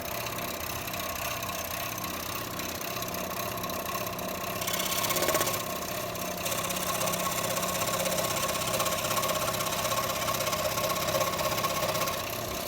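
A Proxxon scroll saw at its lowest speed setting cuts through MDF, its rapid mechanical buzz running steadily throughout with a brief swell in the middle, loud and close with no talking.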